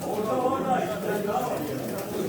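Pigeons cooing at a pigeon auction gathering, soft and continuous, mixed with the murmur of people's voices nearby.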